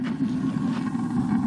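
A Suburban 6-gallon RV water heater's gas burner runs with a steady low roar and faint rushing flutter, close and even throughout, no talking.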